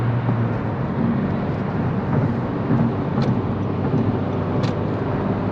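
Steady interior drone of a 10th gen Honda Civic Si on a night drive, engine and road noise holding a constant level with no distinct gear change standing out.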